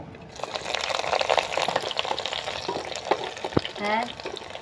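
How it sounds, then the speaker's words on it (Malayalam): Ginger, curry leaves, green chilli, garlic, onion and small onions dropped into a hot pan and frying, a close crackling sizzle with stirring scrapes and spatters. "ഇഞ്ചി, വേപ്പില, പച്ചമുളക്, വെളുത്തുള്ളി, സവാള, ചെറിയ ഉള്ളി ഇത് നമുക്ക് ഇട്ട് കൊടുക്കാം."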